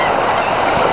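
Birds, likely geese or similar fowl, call in a dense, continuous honking chorus that sounds loud and close throughout the brief moment.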